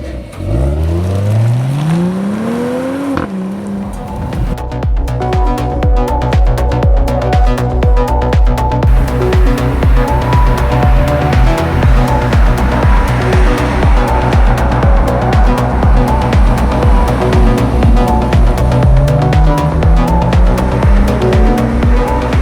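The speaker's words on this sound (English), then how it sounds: "Already on board of this GLE 53 Coupé. Let's hear the noise." A Mercedes-AMG GLE 53 Coupé engine revving and pulling hard on the road, loud and close, with rising and falling gear sweeps and a sustained turbo-laden drone throughout.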